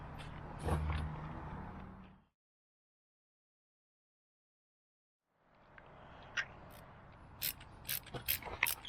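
A ratchet loosens spark plugs on a 2017 VW Jetta 1.4 TSI, close rapid clicking bursts, a silent gap in the middle, then more clicks and sharp metallic taps.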